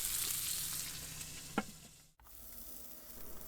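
Potato slider buns toast on a Weber Q griddle, giving a quiet, even hiss with a single light clack partway through and a softer sizzle after a brief break.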